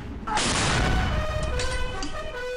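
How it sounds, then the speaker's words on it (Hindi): Cannon fire from a 17-gun salute at a military state funeral, a sharp loud boom that rolls into a long fading echo, with a second blast following and a voice speaking over the tail. "सत्रह तोपों की सलामी"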